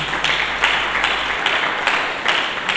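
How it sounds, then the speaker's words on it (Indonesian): A church congregation applauds during a sermon. The clapping is dense, loud and close, with a steady rhythmic pulse running through the wash of hands. "Berikan tepuk tangan bagi Yesus."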